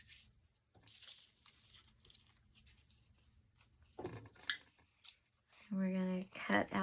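Scissors snip through a thin brown paper napkin stamped with ink for a holiday craft tag, giving faint, sparse close cuts and paper rustles, followed by a person talking.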